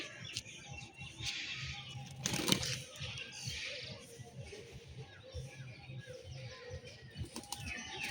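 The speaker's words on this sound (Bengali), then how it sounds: "তো চটা ভাই, তোমার পায়রা দেখাও।" Pigeons beating their wings in short bursts close by, one strong flurry standing out, over a busy outdoor background with faint bird calls and some voices.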